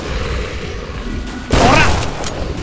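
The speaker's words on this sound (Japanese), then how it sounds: "投げといて、それで爆発するでしょ。" Thrown item exploding in the horror video game In Sound Mind, a sudden loud boom with a crackling burst after a stretch of low ambient game noise, fading quickly into rumble.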